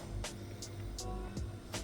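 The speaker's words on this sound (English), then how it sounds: "we're just going to go straight into that and listen to that crunch" Several sharp, crisp crunches at an uneven pace, close up, as a knife cuts through crispy pork belly crackling over a low background hum.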